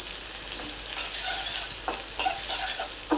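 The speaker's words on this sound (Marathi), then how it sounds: "कांदाही घालून घेऊया आणि हे परतून घेऊया" Onion sautéed in a pan crackles with a continuous, close sizzle while a spoon stirs it, producing a few soft scraping strokes.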